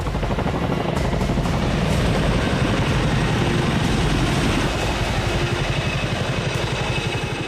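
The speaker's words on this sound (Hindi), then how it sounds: "दुनिया का सबसे तेज उड़ने वाला सैन्य हेलीकॉप्टर" A Chinook military helicopter flies nearby, giving a loud, steady rotor thump and engine roar that holds at an even level throughout with no voices.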